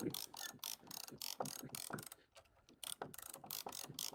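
A ratchet strap being cranked tight around a load of lumber gives off a rapid run of close, loud mechanical clicks in short bursts, pausing briefly midway before ratcheting resumes.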